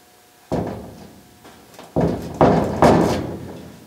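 A 1951 Ford car door shuts several times with masking tape on the striker, four muffled thumps spaced about half a second apart in a quiet space.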